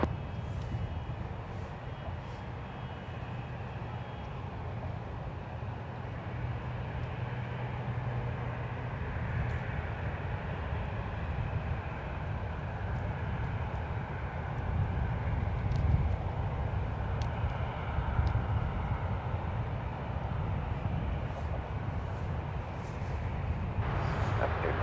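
An airliner lands at San Francisco International Airport, its steady, broad jet roar filling the whole stretch and swelling slightly toward the end, with voices talking over it.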